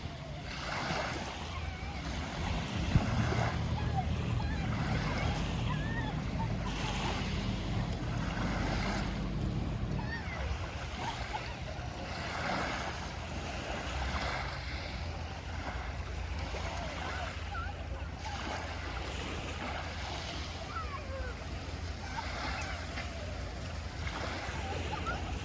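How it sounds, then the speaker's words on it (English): The flat-bottomed Cawsand ferry comes alongside directly on the beach at Cawsand, Cornwall, to steady surf washing ashore, wind buffeting the microphone, and a low continuous engine rumble. "due to its flat bottom, the ferry comes alongside directly on the beach at Cawsand"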